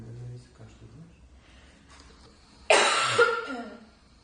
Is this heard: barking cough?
yes